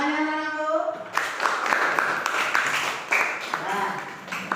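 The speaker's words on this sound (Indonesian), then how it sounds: "Tepuk tangannya anak-anakku." Children in a classroom clap their hands together in a dense, lively patter that starts abruptly after a teacher's voice and continues with voices mixed in.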